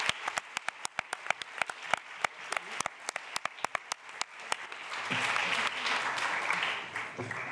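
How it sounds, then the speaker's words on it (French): Sparse, distinct claps ring out in an irregular rhythm at a conference, then thicken into fuller applause from the audience. Voices murmur beneath the clapping near the end. "Alors vous pouvez applaudir Nicolas, parce que c'était sa première modération"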